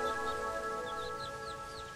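Small birds chirp in short, faint, scattered tweets on a panoramic rooftop solarium among plants at a hotel in Nice, heard at a distance over a steady tonal hum.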